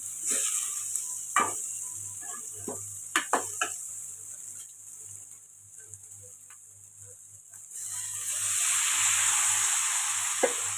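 Tomato frying in a pan for a potato and meal-maker curry: a steady sizzle with scattered spatula clicks and scrapes against the pan. The sizzle swells louder and brighter toward the end as the stirring continues.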